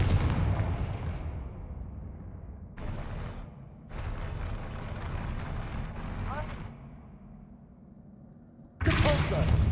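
Spell blasts from Confringo in Hogwarts Legacy, a run of booming explosive hits with rumbling bursts and crackling impacts across the scene, loud and close, with gaps between volleys and a final burst at the end; speech is present.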